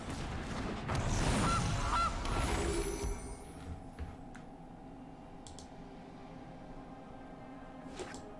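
Goose honk from the MTG Arena digital card game: a loud honking call near the start, followed by faint clicks and a low steady background hum.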